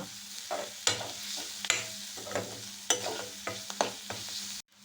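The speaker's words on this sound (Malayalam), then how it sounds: "ഈ വെളുത്തുള്ളി ഇഞ്ചിൻ്റെ പച്ച സ്മെല്ല് മാറി കിട്ടുന്നവർക്ക് കുറച്ച് നേരം അങ്ങനെ സിമ്മിൽ വതക്കുക" Garlic-ginger paste sizzles gently in a pan over a low flame, with a steady soft fry broken by repeated scraping stirs of a spoon every second or so.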